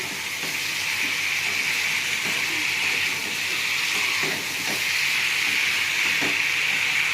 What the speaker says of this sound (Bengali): এবার আমি জল ডালবো।